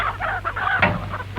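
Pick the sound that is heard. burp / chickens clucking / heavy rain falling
chickens clucking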